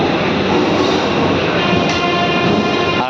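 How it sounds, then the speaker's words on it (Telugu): Raichur–Guntakal DEMU passenger train pulling into Guntakal Junction, a loud steady rumble of rolling coaches with faint wheel squeal rising near the end, close and continuous. "గుంతకల్కి మన ట్రైన్ చేరుకుంది"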